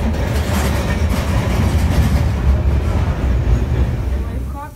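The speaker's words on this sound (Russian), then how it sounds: "Старинный трамвай." An old vintage tram passes close by, giving a loud, continuous rumble and rattle that stays steady throughout and eases slightly at the very end.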